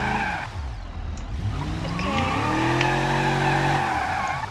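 A video game car revs and drifts with rising and falling engine tones, tires squealing as it skids through turns, loud and continuous with no talk.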